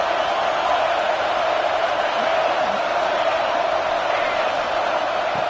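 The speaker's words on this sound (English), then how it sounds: "this home crowd is fired up and ready to make a difference" A college football home crowd roars steadily at USC versus Texas A&M, a dense, continuous wash of stadium noise that stays loud and unbroken throughout.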